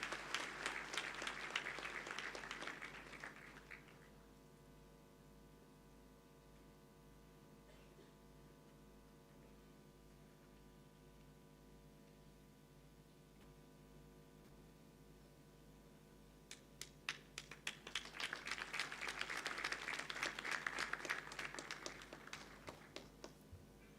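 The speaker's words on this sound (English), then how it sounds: "Kindly welcome Maya to the stage with a round of applause." Applause from a university graduation ceremony audience welcoming the valedictorian to the stage, a burst at the start that fades into a quiet hall, then swelling again into steady clapping near the end.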